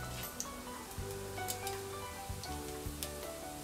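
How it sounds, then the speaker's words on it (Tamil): Mustard seeds, urad dal, dried red chillies and cumin sizzle and pop in hot sesame oil, a continuous frying crackle scattered with sharp little pops, fairly close and alone without talk. "கடுகு பொரிஞ்ச உடனே உளுந்தம் பருப்பு சேர்த்துருங்க, காஞ்ச மிளகாய்,"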